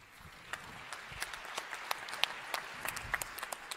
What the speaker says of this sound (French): Vous pouvez l'applaudir d'ailleurs.